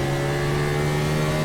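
A race car engine in the iRacing simulator drones at steady high revs while shifting from first to second gear, a loud, close, continuous buzzing tone with no talk.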